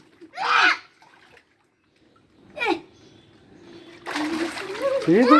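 Children splash in water while swimming: two short separate splashes, then a longer stretch of continuous churning splashing, with voices around them.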